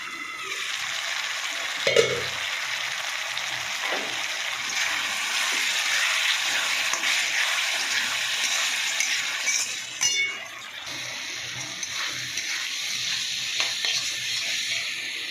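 Food fries in a pan with a steady close sizzle, a sharp utensil clink near the start and intermittent stirring scrapes, and no voices.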